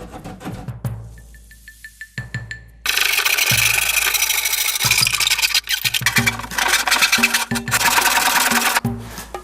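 A power router bores into a wooden furniture piece, preparing an opening for a saw; a few sharp knocks, then a loud continuous whirring cut with brief dips, close and alone.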